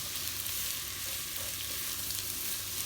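Diced onion frying in rendered lamb fat in a pan gives a steady soft sizzle, continuous and fairly quiet, with no voices.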